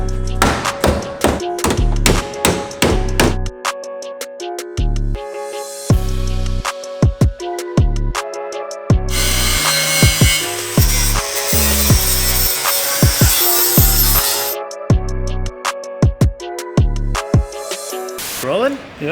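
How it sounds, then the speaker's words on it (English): Hand tools hammer and bang on the damaged bodywork of a G35 in a home garage: rapid close metallic knocks in bursts, broken midway by a few seconds of sustained harsh noise, then more irregular hammer strikes. "a lot of hammering and banging"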